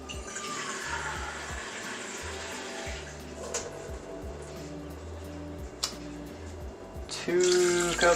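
Water poured into a pot of rice while cooking, a continuous trickling and splashing that runs for several seconds, with a brief louder gush near the end.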